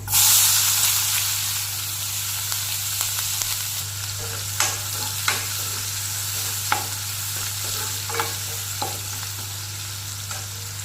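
Panch phoron, onion, ginger and garlic frying in oil on a gas stove, a loud initial hiss settling into steady sizzling broken by sharp spatula scrapes and clinks against the pan.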